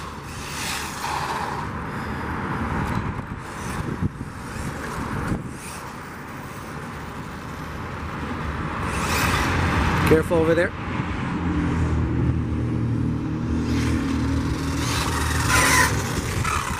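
An Arrma Typhon TLR RC buggy with a BLX 3S brushless motor and ESC whines and buzzes as it drives, rising in pitch during a burst of acceleration, with people talking nearby outdoors.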